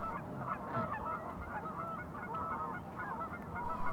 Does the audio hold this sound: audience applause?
no